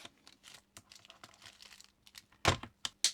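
Scissors snip through a paper label for a flower-seed packet envelope, a few crisp cuts near the end after soft paper rustling and handling.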